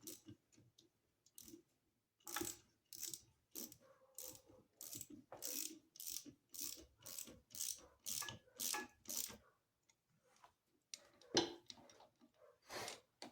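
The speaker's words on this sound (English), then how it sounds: "let me get my 7/16 socket" A ratchet with a 7/16 socket turns in repeated bursts of quick clicking strokes, close and fairly quiet, pausing briefly near the end, while restoring a 1929 Briggs and Stratton Model PB engine.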